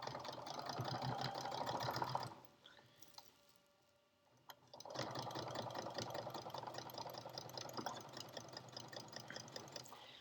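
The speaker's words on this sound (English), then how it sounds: "My machine started sewing in one place." Sewing machine working on a potholder of layered fabric and batting, a quiet rapid whirring stitch that stops for about two seconds midway, then resumes and runs on steadily.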